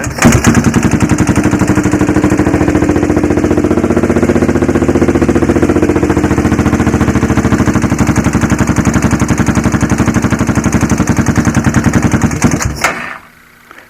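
A Honda 400EX ATV engine idles with the choke on, a loud, rapid, steady single-cylinder chugging that runs evenly for about thirteen seconds before cutting out abruptly near the end.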